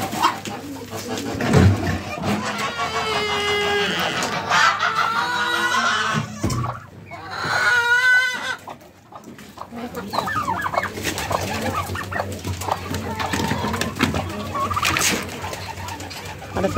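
Poultry clucking, gobbling and cooing close by, with chickens and pigeons calling in overlapping bursts, including a loud rapid clucking run midway.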